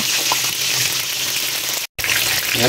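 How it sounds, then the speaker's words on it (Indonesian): Sausages frying in a pan, a loud close steady sizzle and crackle that runs without pause apart from a brief cut, with no talking. "Kita goreng sosisnya ya."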